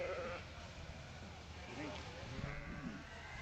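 Tunis ewes bleating at an open class sheep show at the Nebraska State Fair, a few faint wavering calls amid crowd murmur and an announcer's voice in a large arena.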